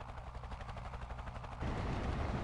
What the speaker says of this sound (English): It's gonna start shooting through the carriages.